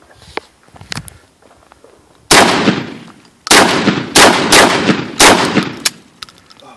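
A firearm fires a quick series of about seven loud, close shots in rapid bursts, each with a sharp crack and a short ringing tail, separated by brief pauses and a few faint clicks.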